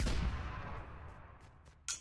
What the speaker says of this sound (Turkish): Şu savuran bombayı deneyeceğim.